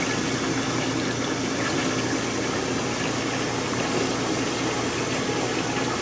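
Water rushes steadily into plastic jugs at a filling station in Alaska, a loud continuous hiss and gush with a pump hum underneath, close and unbroken.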